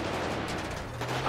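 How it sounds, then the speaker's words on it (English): A brief burst of dense gunfire in the FivePD police game, loud and continuous like a rapid volley, with no talking. "Oh, shots fired."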